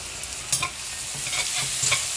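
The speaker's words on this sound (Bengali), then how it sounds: "পেঁয়াজটা ভালো করে ভাজা হোক" Onions with a pinch of salt sizzle in oil in a cooking pot, a steady close frying hiss broken by a few soft scrapes and stirring knocks.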